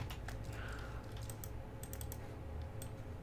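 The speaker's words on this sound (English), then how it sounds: "So start typing curvature" Fingers type on a computer keyboard at a desk. Close, quick key clicks fall in short, uneven bursts, with a faint background hum under them.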